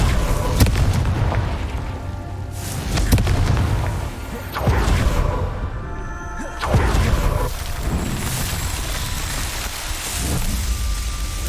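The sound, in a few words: Confringo spell explosions, from video game Hogwarts Legacy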